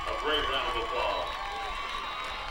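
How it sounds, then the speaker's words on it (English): A crowd in the stands at a 2005 high school football game, Sequoyah vs Woodland, applauds and cheers for a senior two-time state champion, with a steady, moderately loud wash of clapping and voices and talk running over it. "let's give Whitney, senior, two-time state champ. She's out for the year. A great round of applause."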